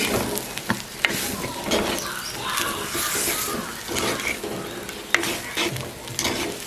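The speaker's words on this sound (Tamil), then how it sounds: "உப்பும் போடுவோம். நல்லா பிரட்டிட்டு பெரிய நெருப்பில் மூடி விடுவோம்." A curry chilli mixture with salt tossed and stirred in a pan, with steady close scraping, clattering utensil hits and a constant loud sizzle, no voices.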